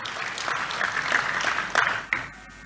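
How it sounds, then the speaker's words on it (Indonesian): Church congregation clapping after a call to applaud during an Indonesian sermon; dense, moderately loud clapping that fades out near the end. "Tepuk tangan dulu buat Tuhan kita Yesus."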